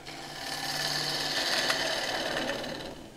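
A half-inch gouge cuts an oak burr bowl spinning on a wood lathe, giving a steady, continuous scraping hiss that swells slightly midway and holds for about three seconds, with no one talking.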